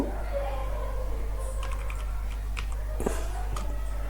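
Fingers type HTML code on a computer keyboard in scattered light clicks, close by, over a steady low hum.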